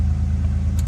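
A Toyota Supra turbo engine idles with a low, smooth, even rumble that holds steady and close, with no talking.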